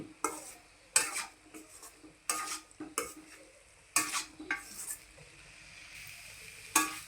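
A spoon stirs telagapindi, a sesame cake curry, in a pan as it dries out. Several distinct scrapes and clinks come at uneven intervals over a soft sizzle, close by, with no talk.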